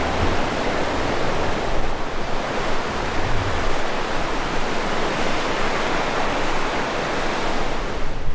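Ocean surf washing steadily against a headland on the Japanese coast, a dense continuous roar of breaking waves with no let-up, close and fairly loud, with no voices.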